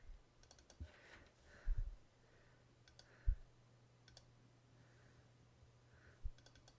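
Soft, faint mouse clicks in a quiet room while working in architecture software, a few isolated click pairs spread out with near silence between them.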